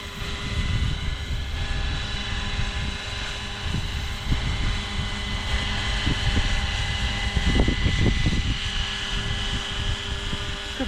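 A Hughes MD500 or AH-6 RC helicopter hums and whines steadily with a constant tonal drone, wind buffeting underneath, continuous throughout.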